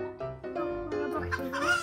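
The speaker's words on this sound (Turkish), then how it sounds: "Tavuklar mı?" Chickens cluck and squawk in short, choppy bursts close by, several calls overlapping in quick succession with rising, agitated notes toward the end.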